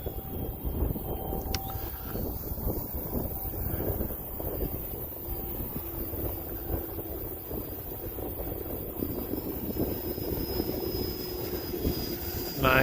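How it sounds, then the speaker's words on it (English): Cold wind blasting straight into the microphone, a loud continuous low rumble and buffeting with an aircraft engine drone faintly underneath. "That wind is really, really cold. It's blowing right into the bag here"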